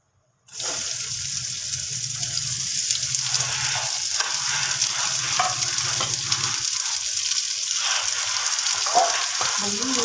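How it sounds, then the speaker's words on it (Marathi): Chopped onions frying in a pan for paneer matar start with a sudden loud sizzle after a moment of silence, then a steady close hiss with occasional stirring scrapes. "आज आपल्याला कांदांचे परतून घ्यायचे त्याला लाल भाजून घ्यायचं"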